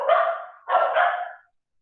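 A dog barks indoors at a house, two short loud bursts of barking close by, then silence.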